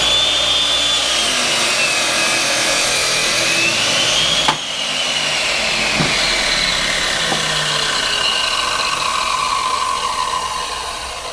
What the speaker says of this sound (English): being how big this is, we're just gonna hit it with a chop saw